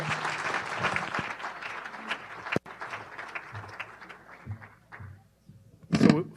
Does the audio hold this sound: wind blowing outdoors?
no